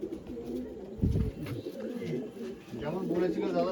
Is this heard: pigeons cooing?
yes